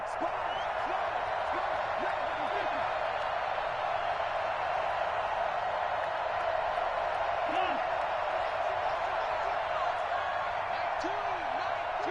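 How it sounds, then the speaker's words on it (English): A packed football stadium crowd roars steadily ahead of a 2-point conversion attempt, a dense, unbroken wall of cheering and noise that holds loud for the whole stretch. "Listen to this crowd now."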